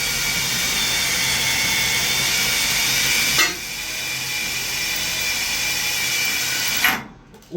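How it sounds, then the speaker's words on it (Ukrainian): A loud, steady high-pitched whine of an angle grinder cutting metal on a John Deere 1188 combine harvester runs throughout, with a brief dip midway before resuming and cutting off at the end. "А угловый треба зрізати болгаркой."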